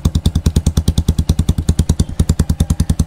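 A Kawasaki KRY 200cc motorcycle fitted with an Akrapovic exhaust idles close by, its loud, steady rapid pulsing chugging on without a break.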